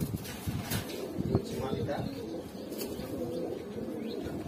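A male pigeon's low cooing rolls on repeatedly beneath someone talking, faint and near, the soft burbling calls blending with the voice throughout.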